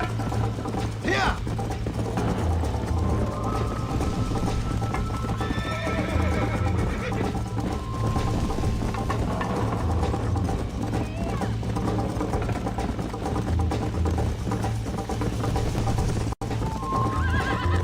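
Horse in the Red Dead Redemption video game galloping with steady clip-clop hoofbeats and a whinny, under a continuous game soundtrack and frequent character speech.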